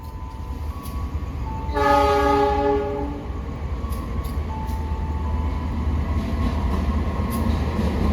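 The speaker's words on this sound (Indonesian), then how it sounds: "kereta yang bersilang dengan Kuto Jaya Selatan" A passenger train rumbles past on a crossing track in the rain with a steady roar of wheels on rails, and a loud horn sounds once partway through over the continuous noise.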